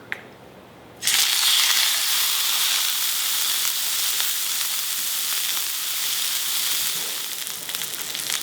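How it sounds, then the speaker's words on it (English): Steak hits oil in a smoking hot cast iron pan and bursts into a loud, steady sizzle that holds for several seconds, close and dense, after a brief quiet moment. "we're gonna sear our steak in this smoking hot cast iron pan"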